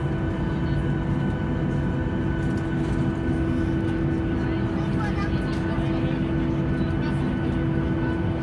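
Steady, loud broadband cabin drone of a Ryanair Boeing 737-8AS with winglets in flight between London Stansted and Stockholm Skavsta, a constant low roar filling the whole stretch with faint talk buried beneath it.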